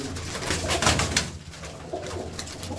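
Racing pigeon at a loft cooing steadily and fairly loud up close, low throaty murmurs repeating over the short stretch with light rustling behind.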